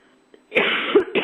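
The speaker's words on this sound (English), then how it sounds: "my cough has come at the very wrong time" A person coughs during a spoken presentation, one loud, rough burst with a brief second burst after a short pause, close to the microphone.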